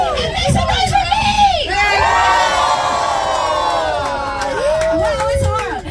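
A crowd of children and adults at an outdoor hamburger eating challenge at McCully Center cheers and whoops loudly for contestants, with shrill shouts and yells rising and falling over several seconds.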